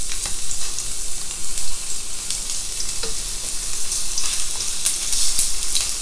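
Round onions sizzle steadily in a hot pan, a dense continuous frying hiss with occasional crackles and light stirring, close and fairly loud with no voices.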